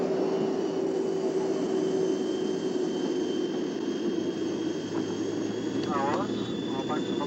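Steady loud roar of a jet airplane in flight from a 1970 spy thriller, a constant engine drone throughout with faint background voices near the end.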